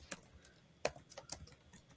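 Soft, scattered keystrokes on a computer keyboard, a handful of light clicks at an uneven pace, quiet and close with no talking.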